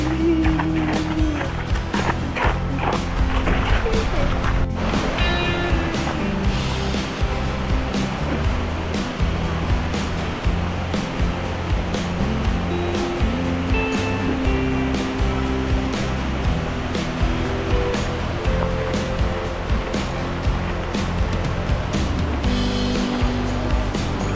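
Torrel Falls in Oregon pours in a constant, heavy rushing roar of falling water, broadband and unbroken, with faint voices in the background.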